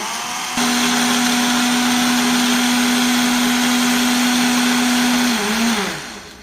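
A blender making a frozen drink whirs loudly and steadily at one pitch for several seconds, then its motor slows and winds down near the end.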